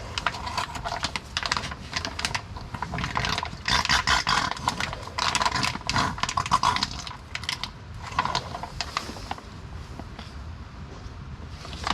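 A hand ratchet works on a transfer case plug of a Nissan Titan XD, giving a continuous run of close, dense metallic clicking with some duller mechanical knocks and no speech.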